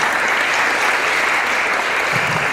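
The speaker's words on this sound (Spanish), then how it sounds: "Les damos un aplauso." An audience honoring students who have stood up breaks into dense, steady applause that holds at full strength throughout, fairly close and loud, with a few faint voices underneath near the end.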